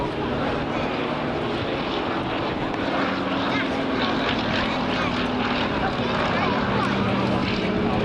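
A Fairey Swordfish biplane flies at an air show, its steady propeller-engine drone continuous and fairly loud throughout while someone narrates over it.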